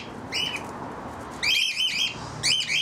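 Birds in a large walk-in aviary give sharp, shrill squawks and whistling calls in three short bursts, fairly close and loud over a steady background hiss.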